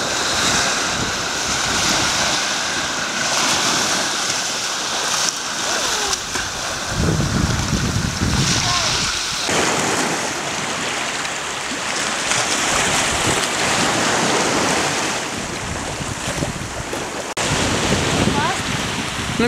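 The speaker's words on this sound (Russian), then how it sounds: "Какой пляж, какой пляж!" Waves wash onto a beach in Goa, with a continuous loud surf roar, rising and falling swells and heavy wind buffeting the microphone.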